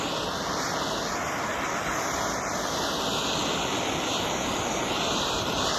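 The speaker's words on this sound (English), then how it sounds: "It's a little bit breezy today" Steady broadband wind roars outdoors on a breezy day, a continuous rushing that stays loud and unbroken throughout, with no talk.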